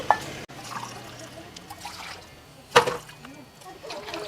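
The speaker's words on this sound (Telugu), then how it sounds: "ఈ గ్లాస్ తోటి 1 గ్లాసు సద్దలకి 3 గ్లాసుల నీళ్ళు పోసుకున్నా" Water poured from a glass into a cooking pot to cook pearl millet rice, a soft close trickle and splash with one sharp clink near the middle, fairly quiet throughout.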